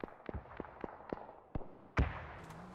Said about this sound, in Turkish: Bomba ile bizimkiler kendi oyuncusunu uçurdu orada.